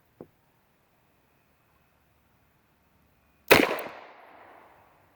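A single loud, close .38 Special shot from an old used Astra 4-inch revolver fired double action outdoors in open country, a sharp crack with a short decaying tail, preceded by a faint tiny click and otherwise quiet.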